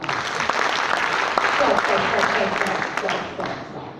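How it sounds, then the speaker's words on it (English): Graduation audience at the Palais des congrès clapping together for the guests, a dense steady wash of applause from a large hall that holds even for about four seconds. "Give 10 claps to all the guests in the house."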